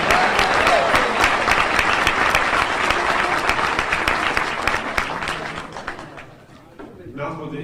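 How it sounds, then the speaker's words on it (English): Audience applause for a brass band, dense and energetic clapping that stays loud for several seconds, then thins and fades near the end as the room settles. "Let's give one more round of applause to the British band"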